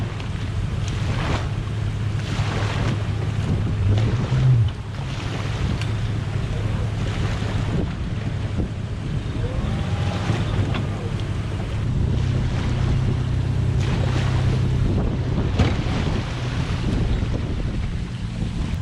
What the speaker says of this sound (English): Motor runs really good. It's just really wavy out here.